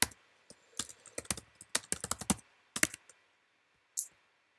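Bursts of typing on a computer keyboard in a quiet room, close and crisp, with irregular clusters of keystrokes separated by short pauses.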